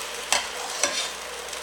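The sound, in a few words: broth poured into cooking risotto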